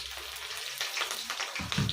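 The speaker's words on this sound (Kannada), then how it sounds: "ಈಗ ಮೆಣಸಿನ್ಕಾಯಿನ ಫ್ರೈ ಮಾಡಿ ತಗೊತೀನಿ" Green chillies frying in oil in a pan: a close, steady hissing sizzle with a few louder crackles and spits, no talk.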